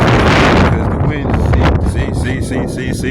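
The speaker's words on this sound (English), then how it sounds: "it's starting to get windy now." Strong outdoor wind buffets the microphone in a loud, rumbling roar that eases slightly after the first second, with gusty bursts continuing throughout.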